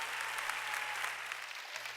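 A church congregation applauds during a sermon, a thick, even roar of clapping that holds steady from start to finish over a faint, low electrical hum.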